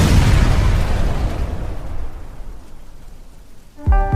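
A loud explosion bursts out at the start and its rumble decays slowly over several seconds, then a brief sharper crash of debris or impact lands near the end.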